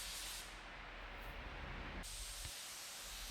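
A spray gun lays a wet second coat of paint on a 1966 Chevy Nova, giving a steady loud hiss that runs throughout with a brief shift partway through.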